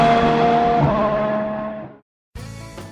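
A car engine sound effect for a motoring radio jingle: a loud, steady engine roar that fades and cuts to silence, then bursts back in with a revving surge.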